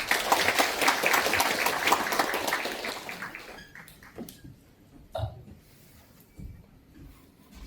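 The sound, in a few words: applause welcoming the committee chairman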